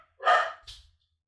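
A single dog barks once, loud and close, followed by a short softer yip in an otherwise quiet room.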